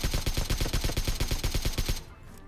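Loud, rapid automatic gunfire from PUBG Mobile, a steady burst of closely spaced shots lasting about two seconds before cutting off abruptly into quiet.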